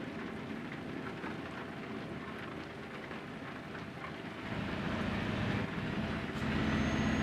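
Rain falls steadily on a truck in Euro Truck Simulator 2 with a dense constant patter. The downpour grows louder and heavier midway, with no voices over it.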